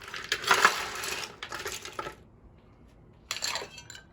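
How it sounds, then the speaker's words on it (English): Cocktail ingredients for a Bloody Maria pre-shaken in a shaker, two bursts of bright rattling clinks, a short pause, then a third shorter burst, close and fairly loud. "I'm going to go ahead and pre-shake this because I like to have all the ingredients mixed up"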